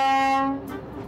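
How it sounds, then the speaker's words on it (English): Horn of an old German-built rail bus, once used on Munich branch lines, crossing the Andes: a single loud, sustained harmonic blast that cuts off after about half a second and leaves rumbling running noise. "We're to cross the Andes on a rail bus built for the branch lines of Munich 30 years ago."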